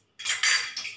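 Metal spoon stirring asafoetida into water in a bowl, bright scraping and clinking against the vessel in two quick bursts, close and alone.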